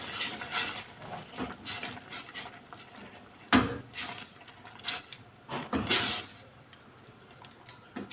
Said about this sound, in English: I'll stir the cream.